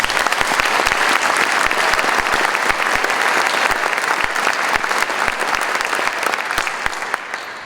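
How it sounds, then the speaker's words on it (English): An audience at a Hall of Fame ceremony applauds, a loud, dense burst of clapping that holds steady and then begins to fade at the end. "Please give them a round of applause."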